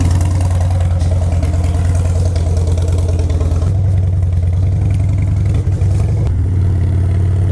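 A Harley-Davidson motorcycle engine runs steadily, a loud close low rumbling throb with a slight rise and dip in revs partway through, and no talking.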